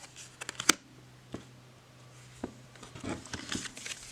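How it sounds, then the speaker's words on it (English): A tarot deck is shuffled overhand, giving soft papery slaps and riffling pats in an irregular rhythm, close and fairly quiet with a low steady hum underneath. "let's do a quick shuffle test. So overhand, these work."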